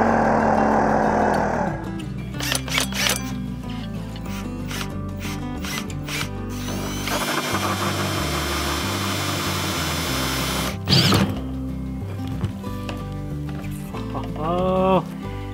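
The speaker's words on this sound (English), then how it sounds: "I got tanks I gotta drill." A power drill bores a hole through a plastic water tank for an off-grid rainwater harvesting system, with sustained whirring bursts and pauses close by, and a voice speaking in between.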